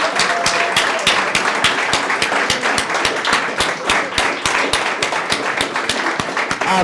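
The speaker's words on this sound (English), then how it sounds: "Give him a round of applause." An audience at a Black History and International Women's Day event gives a speaker a steady round of dense, even applause, moderately loud, with no talking over it.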